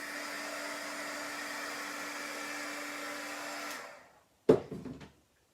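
A handheld heat tool dries chalk paste on a craft door tag, giving a steady close blowing whir for several seconds. It then switches off and is followed by a short clattering knock, as if set down.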